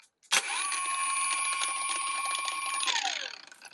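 A VERVEWAVE WT8822 cordless burnishing polishing machine at its lowest speed setting whirs up abruptly, holds a steady high-pitched motor whine for about two and a half seconds, then winds down.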